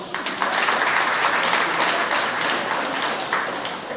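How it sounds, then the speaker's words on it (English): Steady crowd applause, a dense wash of clapping that holds evenly throughout, with no voices standing out. "Please give yourself a big round of applause."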